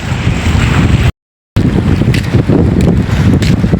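Seashore at Puduppattinam beach, with loud, steady wind buffeting the microphone over rolling surf. A short dropout of silence breaks it midway.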